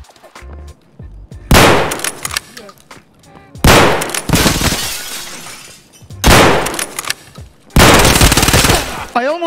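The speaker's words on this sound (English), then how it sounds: "I shot him in the face and he survived, dude." Gunfire in the video game Escape from Tarkov: several loud bursts of shots in distinct volleys about two seconds apart, with quieter game noise and a brief voice between them.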